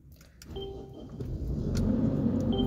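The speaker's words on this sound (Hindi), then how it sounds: "ये गाड़ी को चाबी से ही स्टार्ट करते हैं" A 2019 Mercedes X-Class X250d pickup is started with a key, faint clicks and whirring giving way to a rising, steady low engine rumble as it catches and idles.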